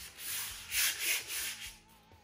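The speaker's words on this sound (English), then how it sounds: "Just taking it and gently going over the top, around the sides, all that kind of stuff, and scuffing it up real good." A wooden piece being scuffed with an abrasive pad before priming, heard as soft, rhythmic rubbing strokes, four or five close back-and-forth passes, quiet and alone.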